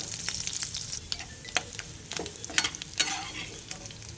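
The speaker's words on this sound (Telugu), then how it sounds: "ఇప్పుడు ఈ ఎగ్స్ని ఆయిల్లో గోల్డెన్ కలర్లో వచ్చేంత వరకు ఫ్రై చేసుకోవాలండి" Cut egg pieces fry in hot oil until golden for an egg pickle, a steady close crackle and sizzle with sharp pops and spits scattered throughout.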